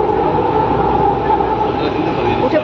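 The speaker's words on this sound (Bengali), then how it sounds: "মেট্রোতে উঠে পড়েছি" Riding inside a Hyderabad metro train: a loud, steady rolling rumble of the carriage in motion, continuous and close.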